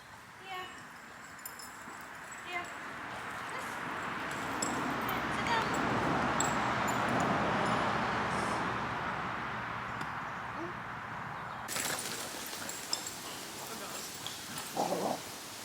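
Several dogs play together outdoors, giving soft whimpers and yips over a rustling background, with a sudden burst of louder activity near the end.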